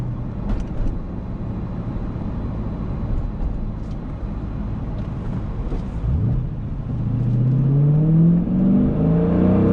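A manual 2020 Dodge Challenger Scat Pack widebody pulls hard in second gear, its engine note building steadily in pitch and loudness from low revs as it accelerates, heard from inside the car with no talking.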